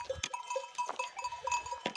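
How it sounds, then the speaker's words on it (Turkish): A young goat kid, offspring of a white nanny, bleats close by on a hillside pasture in short wavering calls, several in quick succession with brief pauses, with no talk over it. "Bu da o ak geçinin oğlağı."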